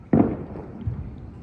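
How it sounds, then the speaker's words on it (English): Fireworks going off after a Super Bowl win in Washington: one sharp, loud boom followed by a rumbling tail and a softer second thump, heard from a distance with no talk. "There were fireworks going off over there."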